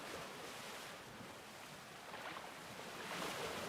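Water waves wash steadily in the video game Wet Candy, a continuous faint broadband rush of surf without distinct breaks, swelling slightly near the end.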